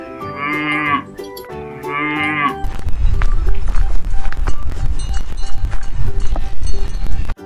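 Cattle mooing at a farm, two long loud moos near the start, followed by busy hoofbeats and clattering livestock movement that continue to the end.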